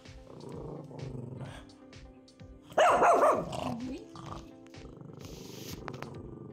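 A dog at a house gives a loud, sharp burst of barking midway through, standing out against quieter background sounds and nearby voices talking.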